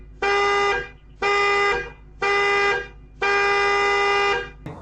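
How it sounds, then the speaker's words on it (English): A Camaro ZL1's alarm sounds its horn in four loud, blaring honks, the last one held longer, with short gaps between them. "Beep beep of the car."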